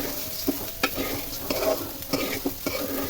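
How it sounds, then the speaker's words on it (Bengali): Rice for pulao stirred and fried in a kadai, with scraping strokes against the pan at a steady rhythm over a soft, continuous sizzle, close and clear with no talking. "এরকম করে কড়াই ঘুরিয়ে ঘুরিয়ে কোথাও যাতে চাল লেগে না থাকে পুড়ে না যায়"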